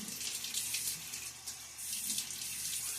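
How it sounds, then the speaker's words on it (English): Water running from a bathroom tap into a sink during a wet shave, a steady hiss that rises in splashy surges as hands catch water, with no talk. "Let me get some water on my face."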